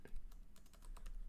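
Fast, continuous typing on a small LG UltraGear laptop keyboard, a dense run of quiet, close key taps over a low background rumble.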